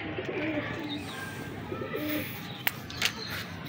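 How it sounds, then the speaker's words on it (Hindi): Pigeons coo in a low, continuous murmur from a rooftop loft, with a couple of sharp brief knocks near the end and a faint voice now and then. "ये देखें सारे कबूतर ऊपर इंजॉय कर रहे हैं"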